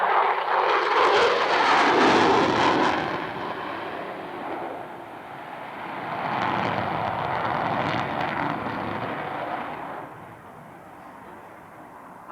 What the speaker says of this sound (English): Diving down into show center from left to right, the F-14B Super Tomcat of the Grim Reapers of VF 101.